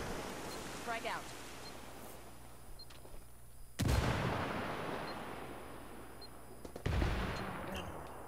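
Two sharp blasts from a grenade and gunfire in the tactical shooter Ghost Recon Wildlands Ghost War, each a sudden loud boom with a decaying rumble, set apart by a few seconds over low ambient noise.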